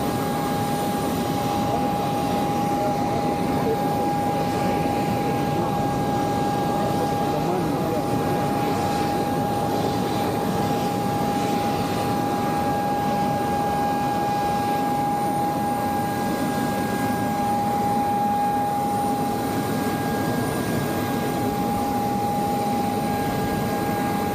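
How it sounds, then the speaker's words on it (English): Aircraft engine noise while passengers board a plane: a loud, steady jet drone with a sustained high whine that holds unbroken for the whole stretch. "this is Kolu after when he was boarding the plane."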